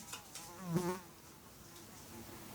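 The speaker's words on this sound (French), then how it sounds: "Ah, la mouche, elle m'embête." Housefly buzzing near a person doing counted cross-stitch indoors, a faint wavering drone that rises briefly in the first second and then hums quietly on.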